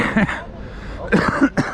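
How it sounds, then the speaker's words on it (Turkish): Several short, harsh coughs in quick bursts, close by, with a pause between the first cough and a later cluster. "Bu öksürük nereden başladı ya?"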